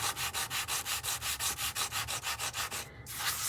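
Rhythmic sanding, rapid back-and-forth rubbing strokes on wood, close and steady, with a brief pause near the end before resuming.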